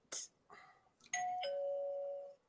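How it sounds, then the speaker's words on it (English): A few soft clicks, then a two-tone doorbell chime: a quick ding followed by a longer dong that rings out, fairly quiet. "Who just got their doorbell ring?"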